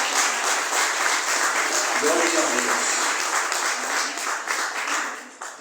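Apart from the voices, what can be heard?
congregation applause in church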